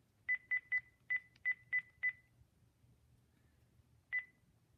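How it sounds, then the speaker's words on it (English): A Panasonic KX-TG5438F rugged cordless phone beeps out keypad tones as a number is entered: seven crisp, evenly spaced beeps in quick succession, a pause, then one more, clear and close in a quiet room. "and enter the phone number,"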